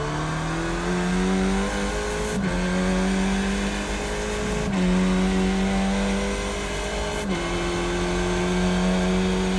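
A Skip Barber race car in the iRacing game at Long Beach holds a steady, buzzing engine drone, with quick sequential upshifts cutting in at regular intervals and the pitch dropping and climbing again after each one. No talk is heard.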